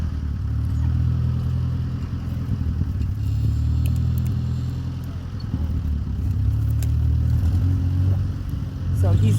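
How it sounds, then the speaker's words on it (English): An Oliver tractor pulls a 3-bottom plow while tilling peat moss and compost into a garden, giving a steady, loud low engine rumble that holds throughout with slight surges. Speech likely runs underneath. "So he's using a 3-bottom plow and his Oliver tractor."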